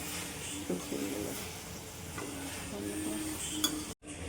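Pangas fish curry (macher jhal) with oil and coriander leaves is stirred gently in a pan, giving soft scrapes over a faint, low sizzle; the sound is quiet and close and cuts off just before the end.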